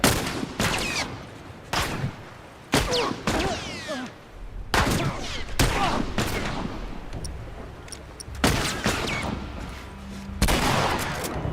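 Bursts of gunfire from The Last of Us video game, several sharp shots and short volleys spaced irregularly, fairly close, with echoing tails and quiet gaps between.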